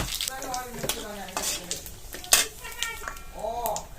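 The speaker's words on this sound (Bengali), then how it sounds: "তেল গরম হয়ে গেছে, ফোড়নের জন্য কড়াইতে দুটো তেজপাতা, একটা শুকনো লঙ্কা দিয়ে দিলাম" Bay leaves, dried red chilli and whole cumin sizzling in hot mustard oil for tempering, bursts of crackling sizzle and spoon scrapes in a pan, with a voice speaking over it.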